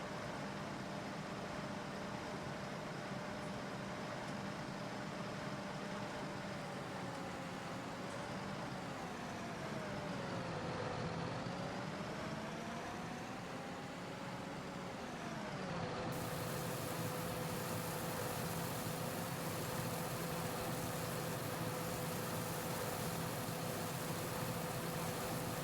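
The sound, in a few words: John Deere tractor driving with trailer in Farming Simulator 19 video game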